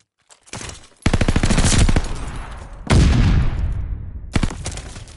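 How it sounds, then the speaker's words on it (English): Video game shotgun fire comes as heavy, close blasts: a small pop, then two loud booming shots with long decaying tails, and another sharp shot near the end. "Shotgun."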